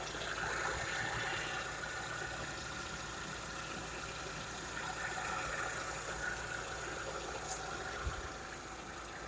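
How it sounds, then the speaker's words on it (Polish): A 2010 Renault Scenic 3 engine idles with a steady, low mechanical hum and a faint rattle, running evenly at close range. "Tak pracuje silnik."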